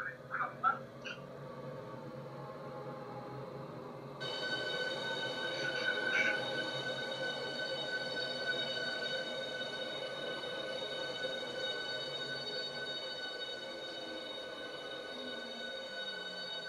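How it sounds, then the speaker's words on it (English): Intercity Express Class 395 Javelin train arriving in a railway video game, a steady electric hum with high whining tones that rise in as it pulls in, a few short clanks at the start. "I'm arriving in now as a Intercity Express Class 395 Javelin."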